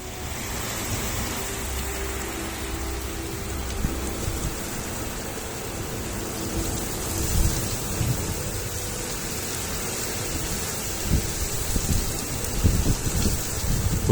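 A thunderstorm cell passes overhead with steady rain hissing throughout and low, rolling rumbles of thunder building in bursts toward the end, loud and continuous with no voices.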